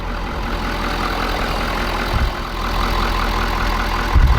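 A Ford F450 truck engine idling, heard as a loud, steady, close diesel rumble with an even low throb that continues unbroken throughout.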